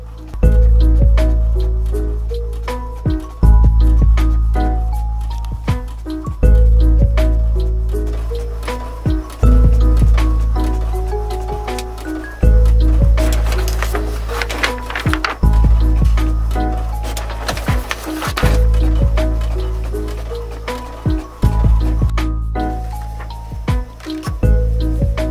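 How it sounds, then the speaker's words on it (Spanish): An inkjet-style printer feeding and printing pages of a study planner, steady mechanical whirring with repeated carriage passes and periodic page-feed clunks, loud and close, continuing without talk. "Le damos a imprimir."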